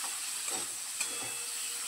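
Chopped green chillies hit a pan where aubergine has been frying, giving a soft, steady sizzle and hiss with a faint stirring scrape, low and even throughout.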